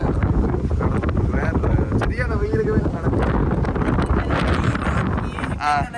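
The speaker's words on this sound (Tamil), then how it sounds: "காற்று மட்டுமே பிரச்சனை இருக்குது எதிர்காத்து எதிர்காத்து நடக்க" Strong headwind buffets the microphone with a steady low roar while someone talks over it, during a walk outdoors in Sri Lanka.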